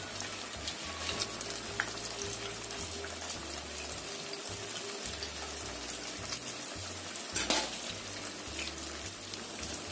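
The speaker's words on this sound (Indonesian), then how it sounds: "Kita goreng sampai matang." Steady crackling sizzle of snacks deep frying in hot oil, with a low rhythmic hum underneath and no talking.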